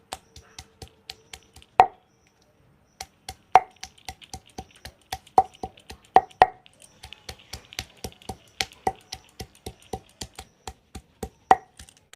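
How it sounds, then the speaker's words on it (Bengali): Karamcha fruit is lightly crushed on a shil-nora grinding stone, producing a run of sharp, close knocks and soft squishy thumps in an uneven rhythm, with a few louder hits and no voices. "এটাকে একটু শিলনোড়ায় হালকা একটু থেতো করে নেব"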